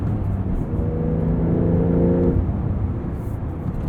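A 2023 Porsche 911 Carrera T with a manual gearbox and a twin-turbo 3.0-liter flat six accelerates under steady load. Its engine note holds a rising harmonic drone that fades after about two seconds, heard close from inside the car.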